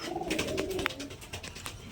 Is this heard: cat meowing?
no